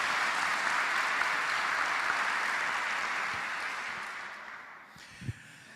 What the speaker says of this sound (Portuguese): Dá uma salva de palmas para a palavra do Senhor.